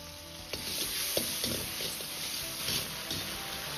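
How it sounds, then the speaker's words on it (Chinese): Oyster mushrooms being stir-fried in a wok with soy sauce and oyster sauce, giving a steady sizzle with repeated scraping and tossing strokes of the spatula, close and moderately loud, with no talking. "稍微多翻炒几下"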